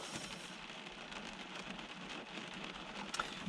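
Steady rain falls outdoors in a Normandy village, a dense, continuous hiss of drops pattering on surfaces, faint and even with no voices.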